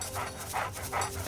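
A dog pants close by in three quick, breathy bursts with an even rhythm, and no one talks over it.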